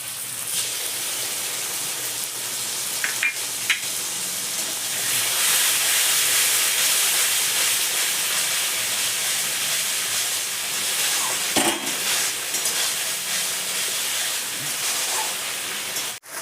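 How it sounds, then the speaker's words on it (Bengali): Spice paste of cashew, melon seeds, raisins and poppy seeds fries in a pan for prawn kalia, a dense continuous hissing sizzle with a few faint clinks of stirring, no talking. "মশলাগুলোকে ভালো করে কষিয়ে নিতে হবে।"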